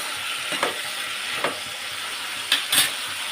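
Tomato and coriander chutney being stirred in a pan, a soft steady sizzle with a few scraping strokes of the spoon, close and fairly quiet.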